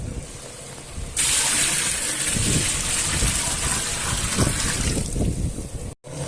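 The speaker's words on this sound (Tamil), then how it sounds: "இப்போ நம்ம தண்ணி அதில் ஊற்றி கொதிக்க வைக்க வேண்டியது தான்" Water gushing into a cooking pot for boiling rice at a temple food offering, a loud steady pouring rush that starts abruptly and runs several seconds before cutting off.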